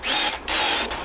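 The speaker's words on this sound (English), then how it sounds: "The drilling is gonna be more important for the piece on top than the piece down below." A power drill bores into wood while building a bonsai box, two close, loud whining bursts separated by a brief pause.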